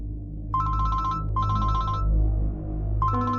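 A telephone rings in three electronic bursts, each about a second long with short pauses between, clear and close over a low background hum.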